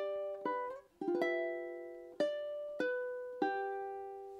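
Ukulele picking out the opening measure of a song, a few quick plucked notes and then single notes spaced about half a second apart, each one left to ring and fade, played solo and close with no voices.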